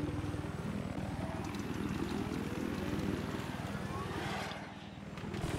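A helicopter in an 8vs8 competitive shooter match drones with a steady rotor chop and engine hum, loud and continuous for several seconds before briefly dipping and swelling again.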